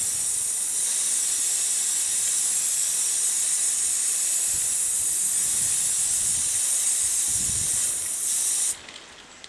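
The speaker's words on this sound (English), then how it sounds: "Chain cleaner. And just give it a good dousing to start." A steady, loud aerosol spray of chain cleaner dousing a motorcycle chain on a Yamaha MT-09 / FZ-09, hissing continuously for about nine seconds close up, then cutting off abruptly.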